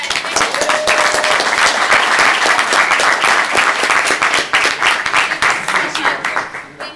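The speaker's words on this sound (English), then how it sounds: "Let's give these guys a round of applause." An audience applauds the panelists at a cloud storage tech event, loud dense clapping that carries on for several seconds, with a voice speaking faintly underneath.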